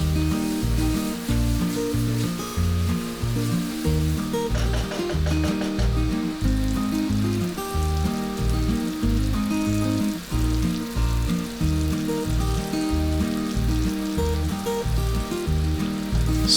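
Goan crab masala paste frying and thickening in a pan, a steady, dense sizzle that carries on throughout, close and loud, with music playing beneath it.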